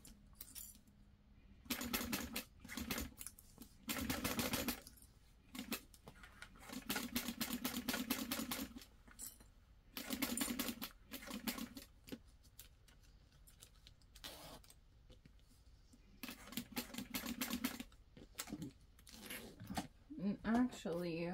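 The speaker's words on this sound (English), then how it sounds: "So I'm going to sew this on at 1/4 inch, and then I'm going to flip it over" A sewing machine stitches a quarter-inch seam on a handmade bag in repeated close, rapid mechanical bursts of a few seconds each, separated by pauses, with a voice talking at times.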